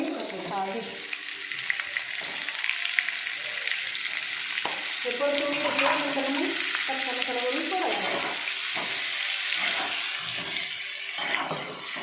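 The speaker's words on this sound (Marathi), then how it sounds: "आता मी ह्याच्यात वांगी सोडणार आहे" Eggplants dropped into a pan of spiced black-masala curry, sizzling and frying steadily with stirring scrapes, bubbling and clatter close up, fairly quiet throughout with no talking.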